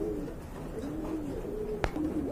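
Pigeons sold in pairs, including an American Tiger Lakka pair, coo softly in low, rolling calls close by, with a short sharp knock near the end.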